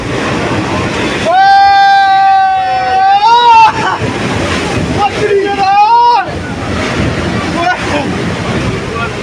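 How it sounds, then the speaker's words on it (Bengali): Rough, stormy sea and gusting wind buffet the open deck of a passenger ship in the Andaman Islands during rain, a loud rushing wash with wind rumble on the microphone, while voices rise over it. "এবার উত্তাল সমুদ্র আপনারা দেখুন"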